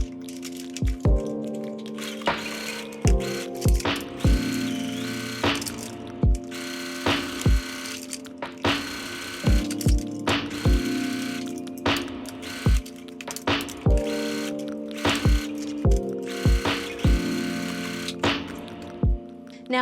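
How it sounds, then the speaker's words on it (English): Sewing machine stitching around the edge of a fabric bucket hat, running in repeated bursts with sharp starts and stops and a whirring hum between them, close and without talk. "Now just sew around the edge of that one."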